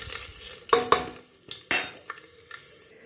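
Cinnamon, cardamom and cloves dropped into hot coconut oil: a couple of sharp clinks and spatters, then bursts of crackling sizzle and scraping that fade into quieter frying, close by with no talk.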